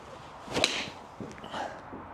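A Cleveland ZipCore XL iron strikes a golf ball with one sharp, crisp impact, followed by a faint whooshing tail as the ball flies off; no talking.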